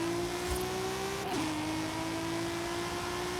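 A car engine held at half throttle while cruising in Forza Horizon 5, a steady mid-pitched drone with a brief dip as it shifts partway through, then settling into an even hum.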